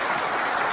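Dense, steady clapping from a religious gathering's audience fills the short moment, a broadband patter without pauses.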